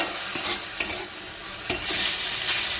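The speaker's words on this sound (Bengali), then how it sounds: "গ্যাসের ফ্লেমটা লোতে দিয়ে এই চিকেনের টুকরোগুলো আমি একটু ভেজে নেব" Chicken pieces frying in a pan over a low gas flame, a steady close sizzle with occasional sharp scrapes and taps of a spatula stirring.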